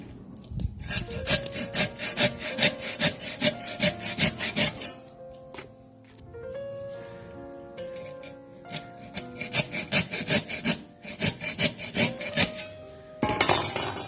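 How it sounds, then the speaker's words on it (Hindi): Hacksaw blade cutting through the burnt copper wires of a fan motor: steady, close, rhythmic back-and-forth rasping strokes in bursts, pausing briefly in the middle before resuming. "अब इस फैन के ये तार जो हैं जले हुए हैं, अब इसको हम हेक्सा ब्लेड से काट के निकाल देंगे बाहर"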